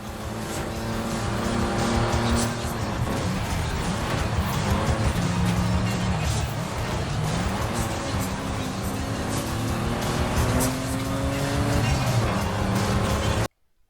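An old Volkswagen Golf 3 drives steadily in Forza Horizon 5, its engine droning loudly and continuously with shifting pitch as it accelerates, with a brief tire squeal, running nearly the whole time before cutting off at the very end.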